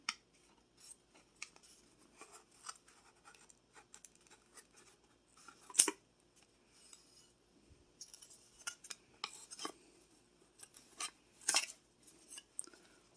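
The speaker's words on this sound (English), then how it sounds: "I'll have to use scissors to remove the string, the little jute twine. I'm going to go ahead and snip it." Scissors snip through thin jute twine on a craft shadow box, a few sharp close clicks scattered through an otherwise quiet stretch with faint handling noises.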